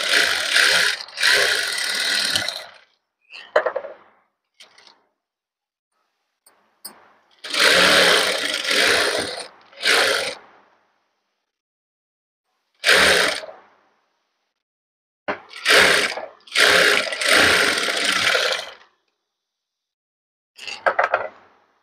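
A sewing machine stitches readymade piping onto a blouse, loud whirring bursts of stitching that start and stop with silent pauses between runs.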